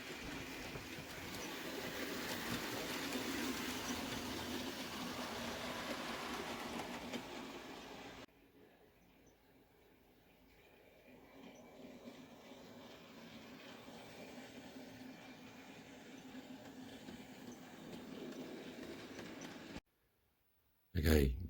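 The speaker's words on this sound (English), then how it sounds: "we'll start off pre-box of crap with some nice trains running" Model trains run along a layout track with a steady rumble and light clatter for the first stretch. The sound then drops to a quieter, thinner running noise, with a brief break and a thump at the end.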